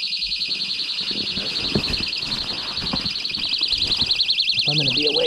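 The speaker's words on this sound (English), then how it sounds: "If I'm gonna be awake, I might as well turn off the alarm. It's waking me up." A steady electronic alarm beeps continuously in a rapid, warbling pattern, loud and close, with faint outdoor noise and brief low voices underneath.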